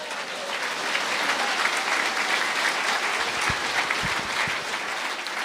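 A church congregation applauds for Christ Jesus during a Quechua and Spanish tithing teaching, giving sustained, even clapping throughout with a few low knocks near the end.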